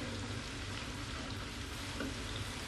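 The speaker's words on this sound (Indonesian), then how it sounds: "digoreng sebentar" Chicken kaki naga sticks deep-fry in a Tefal pan, giving a dense, even hiss of bubbling oil that stays constant and close throughout.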